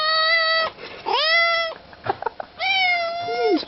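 A cat meows repeatedly and loudly up close, with long drawn-out cries separated by short pauses, and no talking over it.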